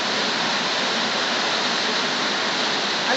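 Heavy rain in the video game Steal an Egg makes a dense, even hiss that fills the whole stretch at constant loudness, with no voices.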